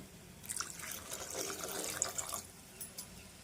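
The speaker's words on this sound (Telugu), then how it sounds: "కొంచెం వాటర్ అయితే వేసుకుందాం" Water trickles and splashes into a paneer curry in the pan, a brief, faint, uneven pouring with scattered drips over a quiet background.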